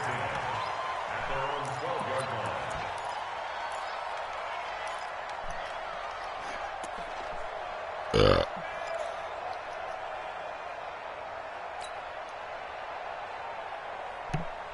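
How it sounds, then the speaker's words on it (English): A single sharp hiccup bursts out once midway, close and brief, over steady background noise and faint talk during an American football game broadcast. "I have the hiccups."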